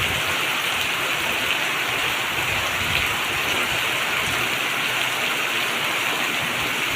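Heavy rain pours down steadily in the morning, a dense continuous hiss of drops drumming on surfaces, loud and unbroken throughout with no voices.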